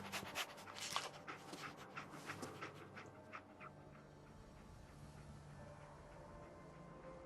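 Dogmeat, the dog companion in Fallout 4, pants in quick rhythmic bursts, loud at first, then fading into a quieter game ambience with a low hum.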